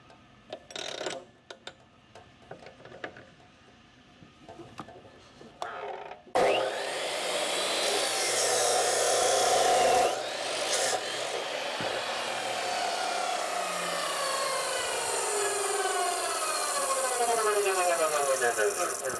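Repurposed Ridgid shop saw with an abrasive wheel cutting steel-braided hydraulic hose, scattered clatter at first, then a loud sustained grinding roar that runs steadily to the end.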